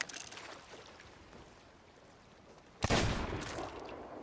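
Gunfire in the Sea of Thieves pirate game, where a quiet stretch of water and creaking gives way to a sudden loud shot-like burst near the end, with the noise lingering afterward.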